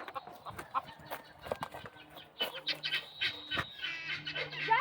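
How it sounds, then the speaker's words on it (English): A rooster calls and squawks in short, rough bursts nearby, with a longer strained cry near the middle, against faint outdoor background noise. "A rooster."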